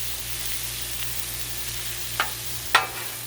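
Shrimp sizzling on a flat-top griddle during a seafood boil cook, a steady even hiss with two sharp brief clicks of a utensil, under a low background hum and without speech.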